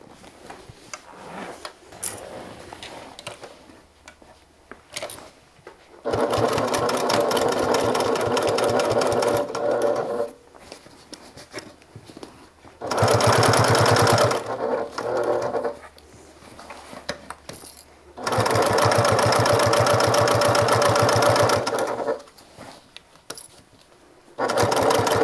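A sewing machine stitches a bag seam closed with a narrow allowance, running in three loud, steady bursts of several seconds each, separated by quieter pauses with fabric handling.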